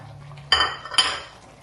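Chicken masala spices stirred in a pan on low heat, with two sharp metallic clinks of a spoon against the pan over a quiet background.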